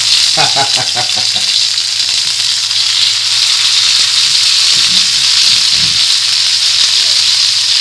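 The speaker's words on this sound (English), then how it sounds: "here comes the meat. There goes the sizzle" Chicken sausage meat sizzles loudly and continuously in hot oil on a tawa, a dense crackling hiss close up, with some scraping stirs near the start.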